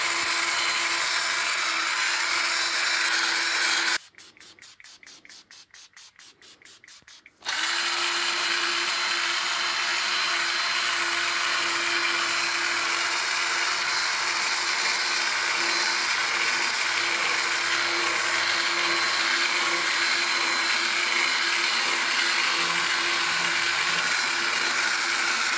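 A handheld drill polishes scratched clear plastic with paste, making a steady whirring grind with a faint whine. Partway through there is a brief few seconds of a different, rougher sound before the constant drilling hum resumes, with no voices.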